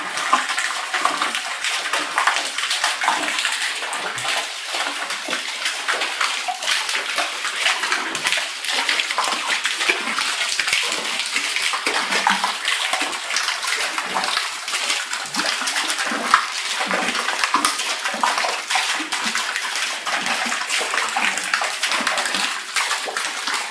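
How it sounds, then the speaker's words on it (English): Steady rushing, splashing water from a musical dancing fountain turned on, a continuous close spray hiss with no voices. "that's what it looks like with the water turned on."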